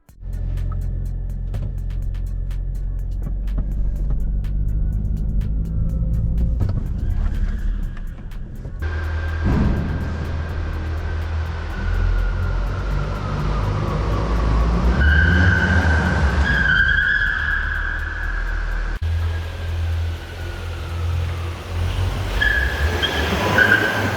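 A car with a turbo build drives along and then brakes to a stop, its rolling rumble joined by rising squeals of tyres or brakes in the middle stretch before it settles, with no talking.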